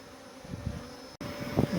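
Honey bees buzzing during removal of a hive from a chimney, a continuous low, close drone that rises in loudness near the end, with no speech.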